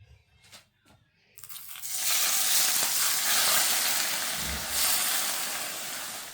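Hot oil poured into a bowl of momo filling mix, a few quiet handling knocks, then a sudden loud, broad hiss of sizzling that holds strong and steady to the end.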